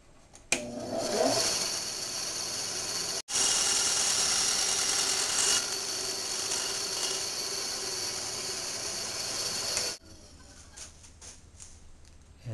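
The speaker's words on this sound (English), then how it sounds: "Now I'm going to cut the gears out." A plastic pinion gear for a DIY volume control pedal is cut out with a power tool, making a loud continuous buzzing whine that starts abruptly, pauses briefly, then runs for several seconds before stopping into quieter handling noises.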